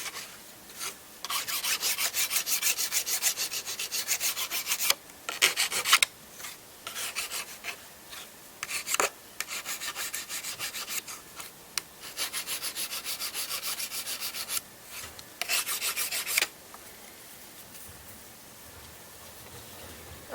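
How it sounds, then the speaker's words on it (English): A hand file rasps along the edges of aluminum patches for an Airstream trailer, taking off burrs in repeated close strokes, with short pauses between bursts and a longer quiet stretch near the end. "This gets that last little bit of a burr off of it, as well as smooths the edges maybe a little bit more."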